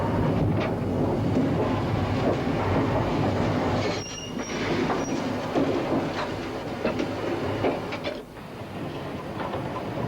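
A steam train in 1958 accelerates away over the summit of the Lickey Incline banking gradient. Its rumble and clattering wheels roll steadily, with brief metallic squeals, loud and continuous for the whole stretch and with no voices.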